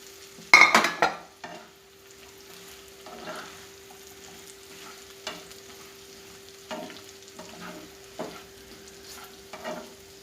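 Capsicum and onion being stir-fried in a pan for chicken dragon, with a loud clatter of a spatula at the start, then soft sizzling and scattered scraping strokes spaced a second or two apart, plus a faint steady hum.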